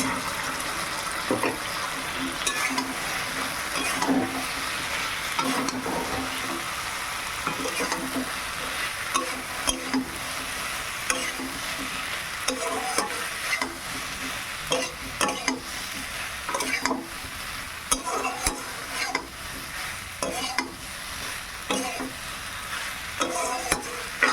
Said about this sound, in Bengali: এবার আমি ভাজা চিকেনগুলো দিয়ে দিলাম